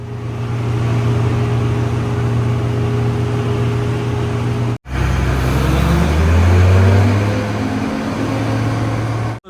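A bus on a ghat road rumbles with a steady low engine drone, cuts out briefly, then resumes and swells as it pulls away, with no voices.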